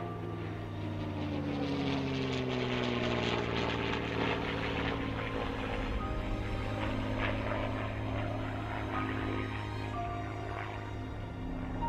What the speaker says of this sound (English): This wonderful Spitfire that I flew in 1944 on a delivery flight from the factory is coming in this afternoon